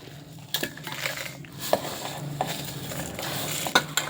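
Dry-roasted curry leaves being crushed by hand while making homemade turmeric sambar powder give close, crackly rustling with a few sharp clicks, and no one speaks.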